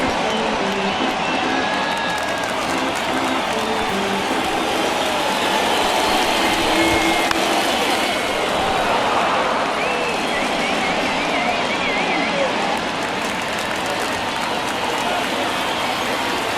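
A large baseball stadium crowd at Exhibition Stadium during a 1977 Angels–Blue Jays game, roaring and cheering steadily through an at-bat, a continuous loud wash of voices with no breaks.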